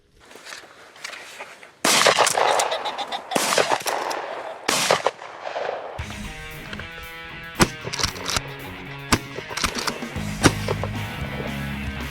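Several loud, sharp shotgun blasts ring out a second or so apart during a youth pheasant hunt in Pennsylvania, each with a broad booming decay, before music takes over.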